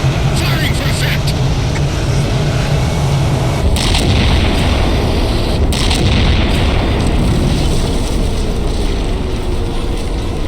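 Heavy weapon fire pounding a marked target in a Halo 4 cutscene: a dense, continuous roar with a deep low rumble and repeated sharp bursts near four and six seconds, loud and sustained throughout with no one speaking.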